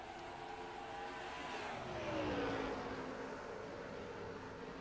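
Video-game race trucks, including the number 30 Mopar truck, roar around the North Wilkesboro oval, a faint blended engine drone that swells briefly as the pack passes, then settles back to a steady hum.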